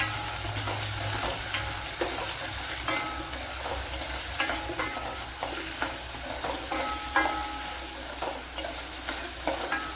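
Shallots frying in a pan for Kerala-style yam thoran, with dried red chillies already in, crackling steadily up close while a spoon stirs and scrapes at a regular pace; no speech.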